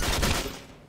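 Gunfire from a P40 in Garry's Mod, a dense burst of rapid shots packed into about half a second and then trailing off. The shots are loud and close, with no talk over them.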